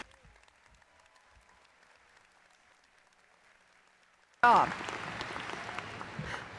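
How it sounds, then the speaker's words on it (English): Commencement ceremony audience bursting into loud applause partway through, after a quieter stretch of low crowd murmur; dense clapping continues steadily to the end. "let's give them a big round of applause"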